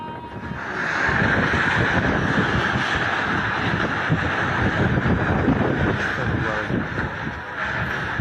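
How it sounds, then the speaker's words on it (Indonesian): Strong gusty wind in Kalideres, blowing roofs off houses, roars steadily and loudly throughout, buffeting the microphone with a dense broadband rush. "Kencangnya hembusan angin menerbangkan atap dari beberapa rumah warga."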